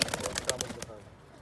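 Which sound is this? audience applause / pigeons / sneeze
pigeons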